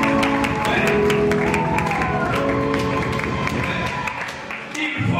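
Steady, dense clapping from a crowd at a wedding ceremony, loud and continuous for several seconds, with voices and cheers mixed in and talking over it.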